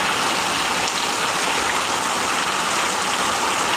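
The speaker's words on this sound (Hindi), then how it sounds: "इतना बारिश हो रही है यहाँ पे" Heavy rain pours down in Kolkata, West Bengal, as a loud, dense, unbroken roar of falling water that stays constant throughout, with no voices.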